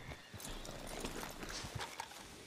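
Horse hooves clip-clop in the Red Dead Redemption 2 video game, a quick steady rhythm of moderately loud footfalls under a faint ambient bed, with a soft whinny hint.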